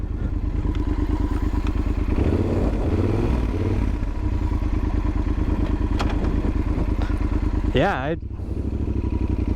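Yamaha Super Ténéré 1200 motorcycle being ridden, its engine holding a steady, close, loud droning note throughout while people talk over it.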